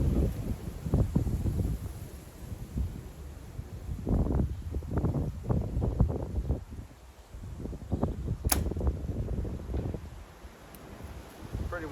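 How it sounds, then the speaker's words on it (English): Strong wind gusts outdoors during a shooting session, buffeting the microphone with loud low rumbling bursts that rise and fall throughout, with a brief sharp crack partway through. "It's pretty windy out here today"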